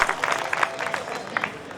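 Audience clapping at a Hindi kavi sammelan poetry recital, a scattered, uneven patter of hands that swells in short bursts and keeps going steadily throughout.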